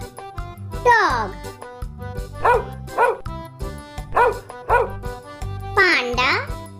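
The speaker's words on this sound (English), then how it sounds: "Dog." A dog barks several times, with sharp yips scattered across the stretch and a stronger bark near the start and end, set against steady background music and a voice.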